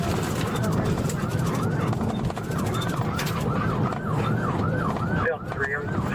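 Police sirens wail in rising and falling cycles nearby, under traffic rumble and people talking, during a pursuit of a car thief with a police dog.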